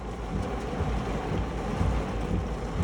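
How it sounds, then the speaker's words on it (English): Heavy evening rain pours down while water runs like a river in front of a house, a dense, steady rush of falling and flowing water with some wind buffeting and no talking. "Look at the water running in front of the house like a river."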